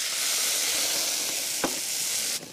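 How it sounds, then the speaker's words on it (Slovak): Water poured into a hot pan of poppy seed mixture sets off a loud, continuous sizzle and hiss, with a short sharp spatter near the end before the sound drops slightly. "Přilejeme vodu"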